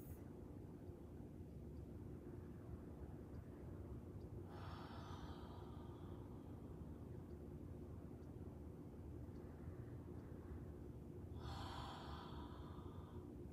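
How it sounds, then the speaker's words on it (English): Two soft breaths in a gentle yoga session, each a hissy swell a few seconds long drawn in through the nose and let out through the mouth, separated by quiet room tone with no talking. "Inhale through your nose,"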